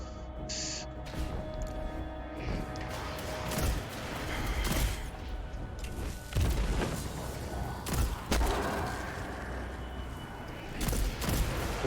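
Repeated heavy hand cannon gunshots boom and thud in quick irregular bursts over a dense, noisy game soundscape, with no talking.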